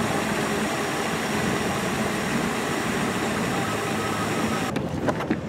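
A turbocharged Honda Integra engine idles close by in neutral, giving a steady, even rumble with no change in pace, and a short clunk or knock near the very end.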